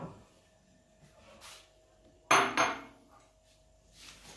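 Cake dough with cocoa being stirred in a bowl, a sudden loud burst of scraping and knocking against the bowl, then quieter handling nearby.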